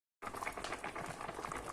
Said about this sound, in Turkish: Şöyle biraz daha kaynamaya devam etsin.